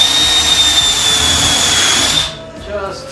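A drill whines steadily as it countersinks screw holes in wood for a portable workbench, a loud, close, high-pitched spin that runs for a couple of seconds before stopping abruptly.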